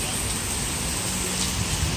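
Heavy rain pours sideways in a dense, loud, steady hiss that fills the scene without break. A faint thread of sound may be a voice far under the downpour.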